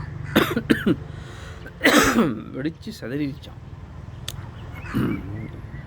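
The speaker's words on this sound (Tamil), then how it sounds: "தகவல் சொல்லும் போது இரும்பக்கூடாது" Several harsh coughs come in quick bursts, mixed with nearby talking and rustling.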